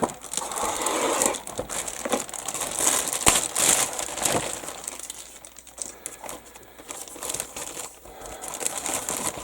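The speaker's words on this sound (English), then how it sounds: "Could open this huge oversized bag that lets parts just move freely around." A large, oversized plastic bag holding loose Airfix 1/48 Bristol Blenheim model kit parts is opened and handled, giving steady close crinkling and rustling of plastic with a few sharper crackles and parts shifting inside.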